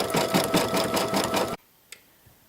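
An embroidery machine sews a satin stitch around the feathers of an in-the-hoop turkey coaster, running in steady, rapid pulses for about a second and a half, then stopping abruptly. A single faint click follows in near silence.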